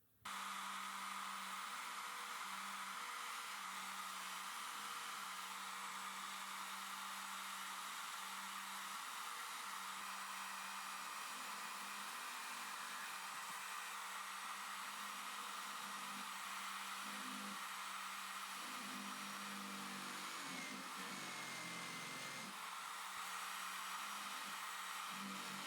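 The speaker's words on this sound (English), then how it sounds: "going to drill the cover so that I can insert the rod" A power drill boring into a router plunge-base cover to fit a lifting rod, giving a steady, unbroken whirring hiss that runs for the whole stretch with no talking.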